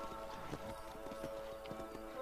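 Hooves clip-clop in quick, even beats as a horse moves in Red Dead Redemption, close and clear over a steady droning background with no talking.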